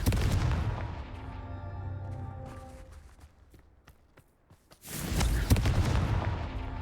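Confringo spell explosions in Hogwarts Legacy, a heavy blast with a ringing tonal decay, then scattered sharp hits and a second loud burst of impacts.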